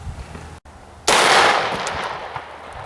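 A single loud 9mm shot of a Hornady hollow point fired at cans of cat food outdoors, a sharp crack after a brief lull, followed by a decaying echo.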